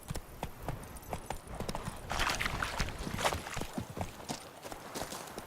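A horse in The Witcher 3: Blood and Wine gallops with fast, irregular clip-clop hoofbeats that stay close and clear, swelling slightly midway, with game ambience behind.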